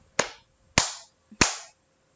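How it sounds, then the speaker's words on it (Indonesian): Three sharp, separate hand claps, close and fairly loud, each ringing briefly, with quiet gaps between them. "Nah, tepuk tangan ini juga termasuk sumber bunyi."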